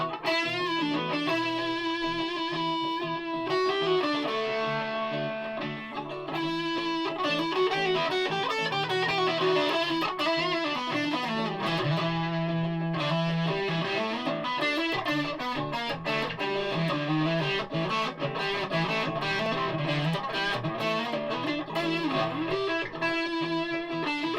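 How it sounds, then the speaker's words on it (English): Stratocaster electric guitar played on the neck pickup through a RAT distortion pedal, reverb and delay switched off; a continuous, loud, thick overdriven tone with sustained chords and melodic lines, heard alone for the whole stretch. "Off with the reverb and the delay, on with the rat pedal,"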